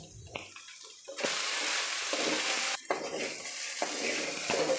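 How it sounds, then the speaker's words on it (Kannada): Okra frying in a pan with lemon juice, quiet stirring at first, then a loud sudden burst of sizzle that stays strong and steady with brief dips and scraping stirs. "ಒಂದಕ್ಕೊಂದು ಅಂಟ್ಕೊಳ್ಳದೆ ಚೆನ್ನಾಗಿ ಫ್ರೈ ಆಗುತ್ತೆ ಬೆಂಡೆಕಾಯಿ"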